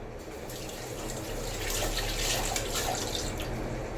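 A reusable kitchen towel is rinsed under a running kitchen tap: a steady splashing stream of water with fluctuating spatter, close and moderately quiet, with no talking.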